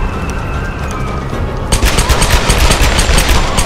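Rapid automatic gunfire in Tomb Raider (2013) while shooting an enemy in a late boss fight: loud, dense bursts of shots break in partway through and continue to the end, over a low game soundscape.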